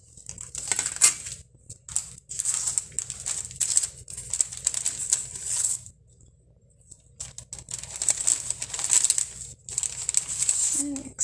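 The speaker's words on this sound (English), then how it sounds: "Excuse the crinkling paper" Paper crinkles and rustles in bursts on a card-making table, with small clinks of supplies among the handling noises and a quiet pause midway.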